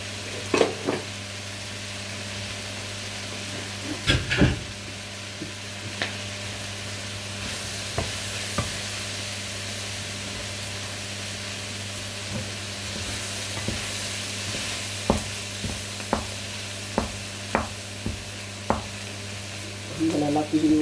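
An egg fries in a pan with a quiet, continuous sizzle, broken by sharp clicks and scrapes from stirring that come in bursts, louder near the end.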